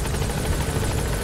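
Steady, loud helicopter rotor roar fills the whole moment as a helicopter comes in to a landing zone in Metal Gear Solid 5, dense and constant with no voices over it.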